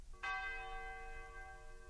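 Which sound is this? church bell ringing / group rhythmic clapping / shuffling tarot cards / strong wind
church bell ringing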